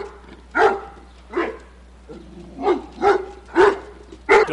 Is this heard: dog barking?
yes